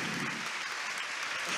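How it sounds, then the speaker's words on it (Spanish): Steady, dense applause from a gala audience, even and sustained throughout with no pauses. "El calor del aplauso."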